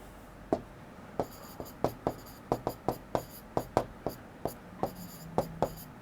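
Marker or chalk writing on a board during a class 12 maths lesson, a close series of sharp taps and short strokes in an irregular rhythm, fairly faint with little else around.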